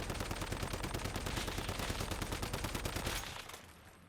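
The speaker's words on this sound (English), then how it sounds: "Begin firing." Rapid automatic fire from a Power Surge Scar rifle in the shooter game Once Human, a dense, loud unbroken burst of shots lasting about three seconds before tailing off into fading echoes.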